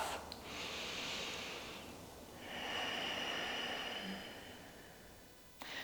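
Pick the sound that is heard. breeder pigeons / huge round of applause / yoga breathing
yoga breathing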